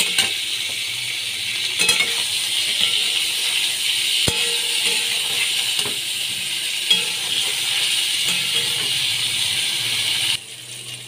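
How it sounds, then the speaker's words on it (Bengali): Loud, continuous sizzling of cauliflower with turmeric and salt frying in hot oil, with occasional clinks and scrapes of a spoon against the pan. "ভালো করে আমি ভেজে নিচ্ছি।"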